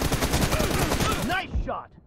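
Rapid automatic gunfire in PUBG Mobile, a loud close stream of quick shots that cuts off abruptly, followed by a few fainter trailing sounds.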